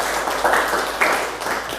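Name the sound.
applause for a student in class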